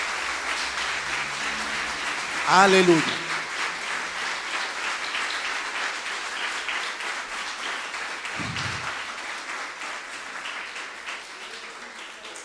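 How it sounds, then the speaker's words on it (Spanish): A church congregation applauds steadily throughout. A voice calls out briefly early on and a short low thump follows later, with the clapping fading slightly toward the end. "Yo quiero que demos un fuerte aplauso a nuestro Dios proveedor."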